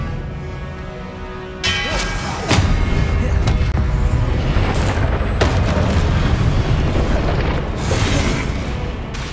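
Confringo fire-spell explosions in the Hogwarts Legacy video game go off in sharp, loud booms, several sudden blasts in a row over a dense rumbling layer of magical combat sound.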